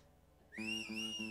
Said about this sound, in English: somebody was whistling, I like it